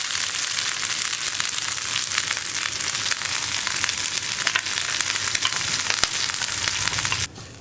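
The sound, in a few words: crushed coconut added to frying mustard seeds, curry leaves and chillies, stirred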